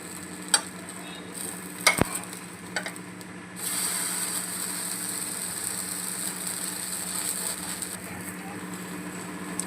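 A suji dahi veggie uttapam is flipped in a pan, a few sharp clicks and a thud of the turner followed by a steady, louder sizzle of frying batter.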